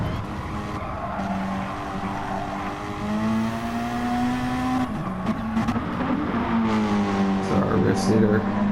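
A saloon race car in the Asian Super Saloons feature race rounds the final corners with a steady engine drone, rising and falling pitch, and tyre squeal. A commentator talks over it throughout.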